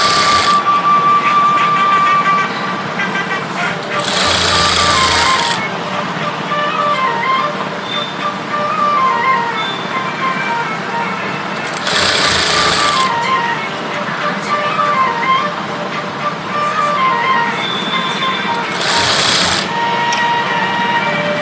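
Electric sewing machine stitching piping along the waist of a heavy maggam work blouse, running steadily and loudly with a whirring drone and brief louder bursts throughout, no talk.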